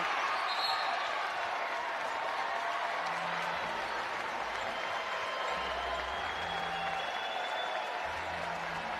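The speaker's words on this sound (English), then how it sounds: "Crowd giving Osorogo a nice little round of applause for her effort there" A crowd applauds at a Gonzaga vs Oregon State college basketball game: steady, moderately distant clapping and crowd murmur fill the arena, with faint bouncing and court noise underneath.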